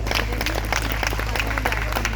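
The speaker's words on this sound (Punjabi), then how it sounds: "ਇੱਕ ਵਾਰ ਜ਼ੋਰਦਾਰ ਤਾੜੀਆਂ ਆਪਦੇ ਦੇ ਲਈ ਮਾਰੋ" Audience applause after a Punjabi anti-drug stage play, Family 420, by Gurchet Chitarkar's team: dense, sustained clapping from a crowd close by, with a voice speaking over it.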